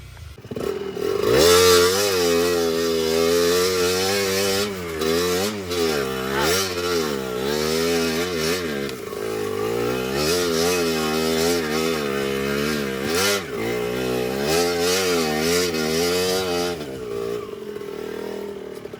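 An enduro motorcycle on a forest trail at Mount Makiling, running hot after overheating, revs loudly and continuously up and down in repeated surges, close to the microphone throughout.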